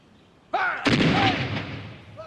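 A heavy artillery blast from Marine guns firing on a ridge in the Guadalcanal fighting, loud and close: a sharp report, a second crack just after, then a long rumbling decay.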